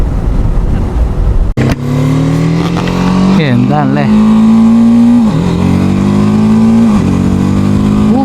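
A TVS Apache RTR 310 motorcycle accelerates on a race track, its engine note climbing and dropping through several gear shifts, loud and close, with a rider talking over the continuous engine sound.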